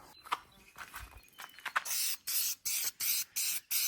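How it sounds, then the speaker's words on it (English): Clear coat sprayed onto a car headlight during a repair, with faint handling noises first, then five or six short, even bursts of hissing spray in a regular rhythm, close and moderately loud; no voice. "get rid of this clear that I'm spraying on it"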